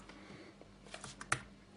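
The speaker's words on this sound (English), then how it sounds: "you can also use the keyboard if you want to perform various tasks" Keys on an Asus Transformer Infinity docking station keyboard are tapped in a quiet, scattered run of soft clicks, ending with one sharper, louder keystroke near the close.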